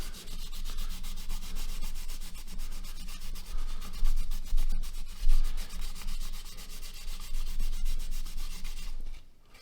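Fine 1000-grit sandpaper rubbed back and forth over a Civivi Sokoke knife handle scale, a close, rhythmic scratchy rasping that stops abruptly near the end, no voices.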